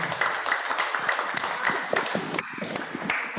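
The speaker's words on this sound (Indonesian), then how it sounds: "Tepuk tangan untuk pengurus lain." An audience at a religious gathering on drugs in Islam applauds, a moderate, steady patter of many hands clapping at a middle distance.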